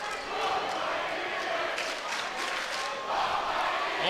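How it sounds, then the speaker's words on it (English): High school boys' basketball crowd at Huron versus Pioneer roaring and cheering steadily, with a dense, loud gym din that swells again near the end. "both crowds fired up here"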